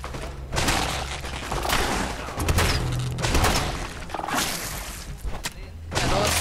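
Gunfire in the video game Fallout 4, a run of loud, close booming shots and thuds in uneven bursts over game noise.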